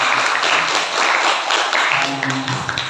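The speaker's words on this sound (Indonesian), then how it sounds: "Tepuk tangan dulu." An audience applauds during an Eid al-Fitr religious talk, a dense burst of clapping that swells and fades in waves, with a faint voice underneath toward the end.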